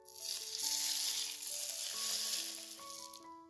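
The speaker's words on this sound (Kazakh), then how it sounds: "Салаттың соңында 200 немесе 150 грамдай ыстық қайнап тұрған сұйық майымызды құямыз." About 150–200 grams of hot boiling oil is poured over an autumn salad, producing a steady, close hiss and sizzle that swells and fades slightly over several seconds with no talk.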